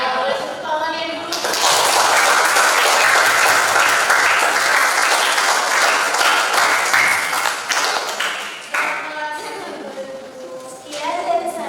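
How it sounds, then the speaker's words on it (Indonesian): A room of people bursts into loud applause after a short spoken presentation. The clapping is dense and sustained for several seconds, then thins out as voices return. "boleh tepuk tangannya dulu"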